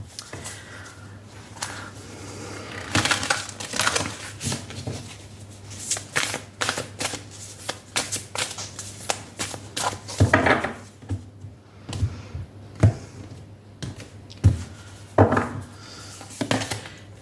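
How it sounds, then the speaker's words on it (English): Spirit animal oracle cards being shuffled and handled, a run of quick papery riffles and taps with brief pauses between bursts, close and fairly soft, no talking. "Let's take out a spirit animal oracle card for you"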